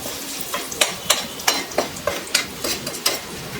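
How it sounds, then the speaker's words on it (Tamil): Raw banana slices sizzle steadily in a hot pan while a utensil stirs them, giving regular scraping clinks about twice a second. "இந்த ஹீட்லேயே இப்போ இதை நல்லா பொரிய விட்டுறலாம்."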